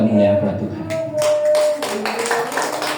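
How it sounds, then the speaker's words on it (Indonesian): A church congregation claps along during a service, bursts of hand claps starting partway through under a sustained tone and voices. "Biar ada tepuknya, biar ada tepuk tangannya."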